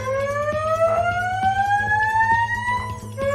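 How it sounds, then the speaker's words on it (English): A fire alarm wails loudly and steadily, a rising siren tone sweeping upward over a low pulsing hum, close and continuous throughout with no voices. "Fire alarm."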